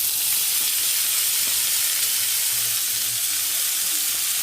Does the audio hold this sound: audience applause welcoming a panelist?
no